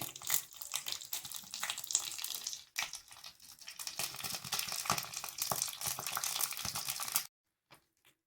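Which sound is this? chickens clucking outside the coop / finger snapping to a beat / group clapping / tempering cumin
tempering cumin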